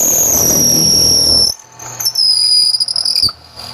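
A high, piercing whine from a powered drill making an insert runs loudly, cuts out, then starts again in short bursts before stopping.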